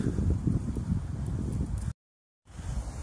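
Strong wind blows outdoors around an open wood fire, a loud, gusty low rumble of buffeting against the microphone that briefly cuts out, then returns.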